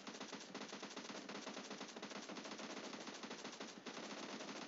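Sustained gunfire in the video game PUBG Mobile, a dense rapid automatic rattle that runs without a break from start to finish, with no talking.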